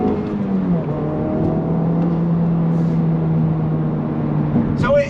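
A Honda Civic Type R FL5 fitted with a titanium exhaust accelerates uphill through woods. A steady engine drone rises gradually in pitch under continuous cabin noise, with a brief sharp sound near the end.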